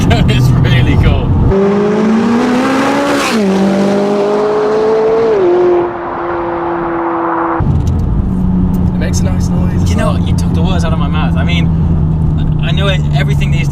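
A McLaren 570S sports car accelerates hard in sport mode. Its loud engine note climbs through the gears with shifts, then settles into a steady drone, and road and wind noise run under it.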